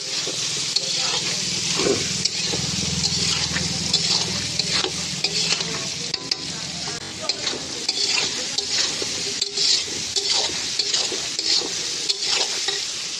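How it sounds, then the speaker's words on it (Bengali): Potatoes and soaked chickpeas fry in a pan with a steady, close sizzle, while a utensil stirs and scrapes against the pan throughout. "তো আলুটা আমার হালকা ভাজা হয়ে যাচ্ছে।"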